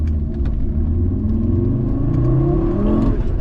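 Fiat Coupe 20v Turbo pulling away from a standing start on a race track, its engine note rising steadily in a loud, continuous near rumble that climbs in pitch as it accelerates.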